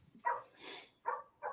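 Out in a backyard, a dog barks faintly from a distance, a few muffled barks spread across the moment with a softer whine-like sound between them, no talking over it.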